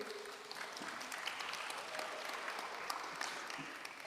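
Steady applause from a debate audience, a dense even patter of many hands clapping throughout without pause.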